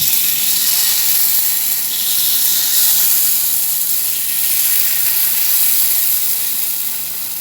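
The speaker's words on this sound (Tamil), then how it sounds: "இப்போ பணியாரம் ஊற்றிடலாம்." Black rice paniyaram batter sizzles steadily in a hot pan, giving a continuous bright hiss and crackle that stays even and close throughout, with no talking over it.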